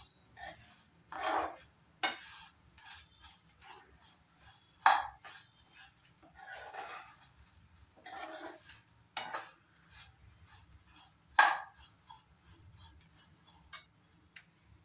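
Flattened rice (chira) frying with salt and sugar in a pan is stirred and tossed, giving quiet scraping and clinking spoon-on-pan hits at an irregular pace over a faint, steady background.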